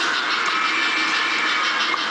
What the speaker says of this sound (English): Here's the train running in.